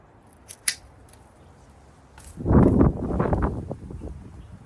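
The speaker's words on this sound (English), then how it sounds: "So I'm cutting like the things that are not pointing the right way." Pruning shears cutting rose canes in a small garden, a few sharp close snips followed by rustling of the cut stems, with no talking.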